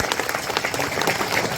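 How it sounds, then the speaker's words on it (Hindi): Audience clapping to welcome guests onto a stage at a public gathering, a steady burst of applause from a crowd lasting under two seconds, with no clear voices over it. "इनका भी जोरदार तालियों से स्वागत करो भैया लोगों का"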